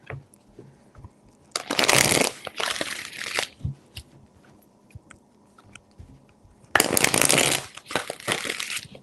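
Tarot cards shuffled by hand in two separate bursts of close, crisp riffling and rustling, with quiet pauses between and no talking.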